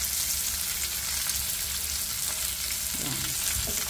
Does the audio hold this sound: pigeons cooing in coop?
no